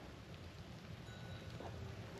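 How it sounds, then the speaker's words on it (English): Rain falls outdoors near a water-filled trench, a faint continuous patter of drops with a soft steady hiss and no voices. "And it's been raining today."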